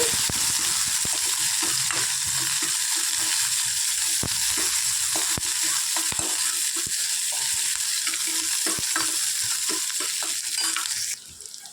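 Mustard seeds and chopped onions fry in a pan with a loud, continuous sizzle and crackle. Scattered sharp pops and light stirring scrapes run underneath, and the sound drops away abruptly at the very end.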